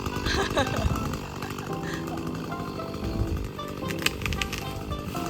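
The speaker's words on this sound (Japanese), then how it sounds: "やっぱチェーンソーの調子が悪い。" A chainsaw running rough while old reclaimed lumber is cut during a farmhouse restoration, a dense uneven engine snarl that holds steady close by for the whole stretch, with a few sharp clatters and voices mixed in underneath.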